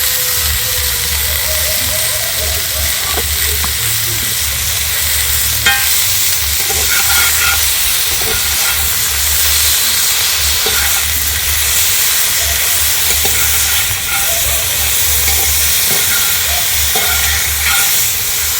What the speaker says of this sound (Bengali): হালকা করে নেড়ে নিয়েছে